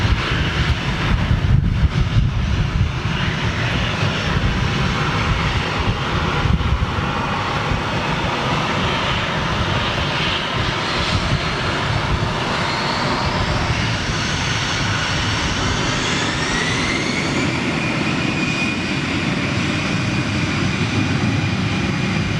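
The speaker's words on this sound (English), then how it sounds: "A330 taxiing out." An Airbus A330 jet taxis out at Manchester Airport, a steady loud engine roar and whine that holds throughout. Rising turbine tones drift across the middle and end, with no voices over it.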